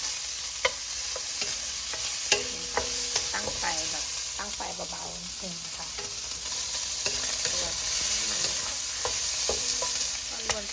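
Grilled pork neck stir-fried in a dry pan with no added oil sizzles steadily, with repeated scraping strokes of a spatula rising over the frying, close up, no talking.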